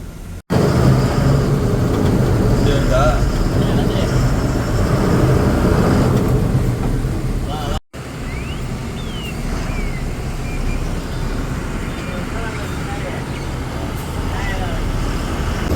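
A line of lorries rolls along the Vizag–Jharsuguda road near Bolangir, giving a continuous low engine and road rumble with a brief dropout midway, while people talk over it throughout.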